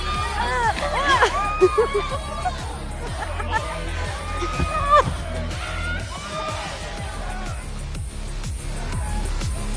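A concert crowd in the video game Life is Strange Double Exposure fills the scene with steady babble, scattered shouts, whoops and cheering voices over a constant low rumble.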